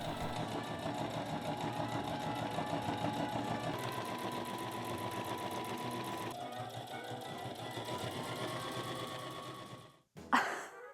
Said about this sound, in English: before breaking out the sewing machine